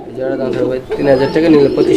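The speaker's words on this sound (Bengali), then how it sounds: "এখানে দুই পিস লক্ষা কবুতর আছে" Lakka pigeons coo in low, rolling, throaty phrases close by, steady and fairly loud, with some background voices underneath.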